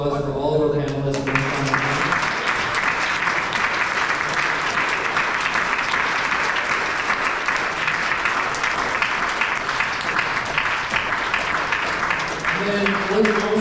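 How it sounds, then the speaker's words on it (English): A debate audience gives its panelists a long, sustained round of applause, thick and steady for over ten seconds, with a voice briefly audible at the very start and again as the clapping fades. "could we get a round of applause for all of our panelists?"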